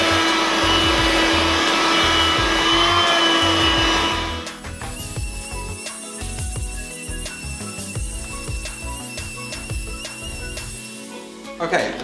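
A Hoover Jovis Plus SM120WDN wet-and-dry handheld vacuum cleaner roars loudly and close for about four seconds while picking up debris, then cuts out, leaving scattered clatter and handling noises.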